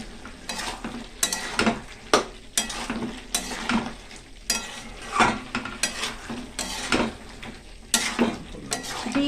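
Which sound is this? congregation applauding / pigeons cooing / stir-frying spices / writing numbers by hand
stir-frying spices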